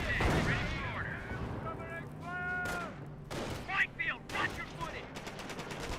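Anti-tank guns firing in a Company of Heroes battle, a series of sharp cracks and booms with other gunfire, heard under a commentator's talk.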